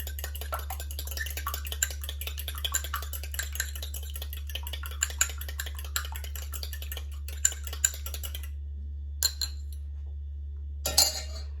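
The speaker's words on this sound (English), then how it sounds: "Crack an egg, give it a little bit of a whisk with a fork" A fork whisking an egg for a scone egg wash gives rapid light clinks of metal against a bowl, a quick uneven ticking that runs steadily, then breaks off near the end with a couple of last taps over a low hum.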